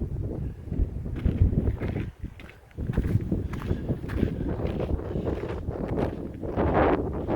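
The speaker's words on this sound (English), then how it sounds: "here on the edge of this thing is incredibly windy" Strong wind gusting across the edge of a steep drop, roaring broadband against the microphone, with heavier bursts toward the end and faint footsteps underneath.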